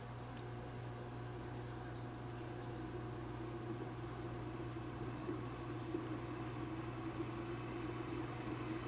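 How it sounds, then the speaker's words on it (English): A vintage electric motor running on 120 volts through a series resistor current limiter, giving a steady low hum with a faint whine, even and continuous with no speech. "I'm not going to be touching the motor while I try to run it"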